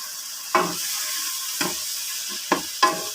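Pancit canton noodles being stirred in a sizzling pan, with four distinct scraping strokes of the utensil spread over a steady frying hiss.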